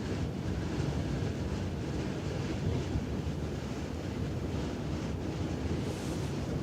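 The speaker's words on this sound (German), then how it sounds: "Ein bisschen lässt der Wind nach." Wind blows across the deck of an AIDAprima cruise ship at sea off Norway, a steady low rumble and buffeting on the microphone with faint wave wash beneath.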